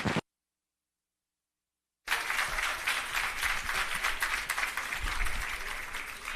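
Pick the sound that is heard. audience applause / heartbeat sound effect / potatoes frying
audience applause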